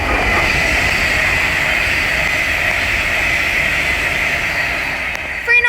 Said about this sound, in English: in the distance is another Avanti West Coast Class 390 Pendolino